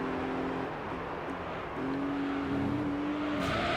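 Race car engine from the video game Gran Turismo 3, one-make prize car series, droning steadily through a final lap with shifting pitch and gear changes, continuous and fairly loud with no talk.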